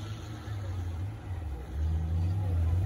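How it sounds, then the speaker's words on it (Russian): A Lada Niva off-road car backs up and pulls away during an off-road trophy sprint race, its engine droning at moderate distance with a rising pitch as it moves off. "Нива сдала назад, выезжает."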